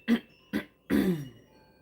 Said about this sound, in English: I kept coughing.